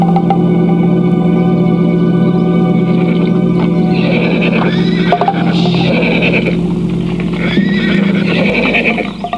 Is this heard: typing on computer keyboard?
no